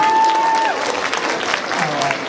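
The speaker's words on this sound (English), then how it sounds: "One more round of applause as they head back." An audience at a school sixth-grade promotion and awards ceremony claps loudly and continuously in a steady wash of applause, with a few voices and crowd noise mixed in.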